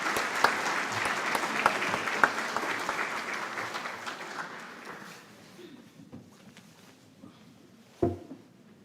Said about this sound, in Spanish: Aplausos para el doctor